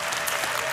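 A church audience applauds in a brief, dense burst of clapping at moderate level, heard alone without speech.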